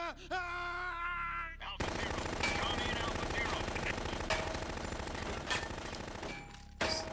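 Rapid automatic gunfire rattles in a video game after a short tonal sound at the start, with bursts of shots continuing steadily and a few louder cracks near the end.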